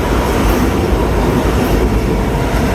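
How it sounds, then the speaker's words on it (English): An LIRR express train bound for Manhattan roars through Woodside station without stopping, a loud, continuous rumble of wheels and cars close by, steady throughout with no voices. "And this is an express to Manhattan."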